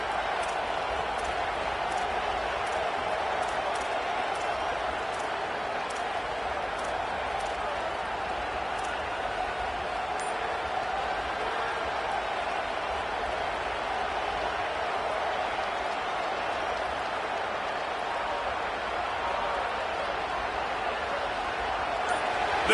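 A stadium crowd at a football game roars steadily behind the defense during a red-zone stand, a continuous broad wash of noise and indistinct voices with no pauses.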